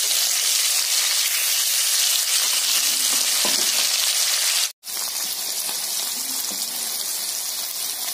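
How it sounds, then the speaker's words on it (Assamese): Fish pieces frying in salted oil, topped with turmeric, produce a loud, dense, unbroken sizzle that runs close-up for about eight seconds, dropping out for a split second midway before resuming. "সেয়েহে আগে মই মাছখিনি ভাজি ল'ম"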